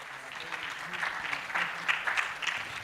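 Audience at the 4th Africa-Asia Youth Forum 2025 giving a round of applause, scattered clapping that thickens and swells midway, heard from within the hall with murmuring underneath.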